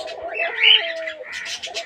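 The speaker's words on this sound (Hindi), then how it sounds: "और ये कबूतरों की आवाज़ें ये देखें" Pigeons coo softly close by, a few throaty warbling calls in quick succession with little else around.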